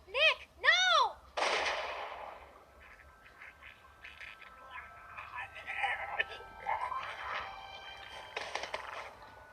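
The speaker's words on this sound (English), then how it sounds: "That shot rang out for miles." A single gunshot cracks out loud and close in The Walking Dead Season 2 video game. Echoing reverberation and faint ambient sounds follow, and no voices are heard.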